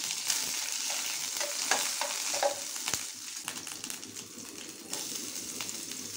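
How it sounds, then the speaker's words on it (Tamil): Crushed garlic and curry leaves sauté in hot oil over low heat for Chettinad chicken sukka, a steady crackling sizzle with occasional spoon stirs and clinks, close and continuous with no talking. "இதோட தட்டி வச்ச பூண்டையும் கருவேப்பிலையும் சேர்த்து சிம்மில் வச்சு வதக்கிக்கோங்க."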